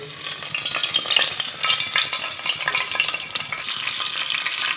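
Onions sizzle and crackle in hot leftover oil in a pan on the stove while aloo gobi is cooked, a continuous loud hiss with occasional stirring scrapes and no talking.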